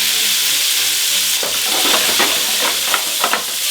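Salmon hits a hot frying pan, starting a loud, bright sizzle that runs on steadily, broken by a few scraping turns and clinks of a utensil near the end, with no talking.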